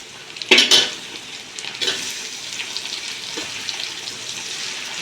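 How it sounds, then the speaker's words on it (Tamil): Onions sautéing in a pan for prawn biryani sizzle steadily, opening with a sharp metallic clatter of a utensil against the pan, then a softer stir and continuous frying hiss without speech. "வெங்காயம் நல்லா வதங்கட்டும்"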